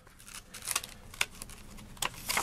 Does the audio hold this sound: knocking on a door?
no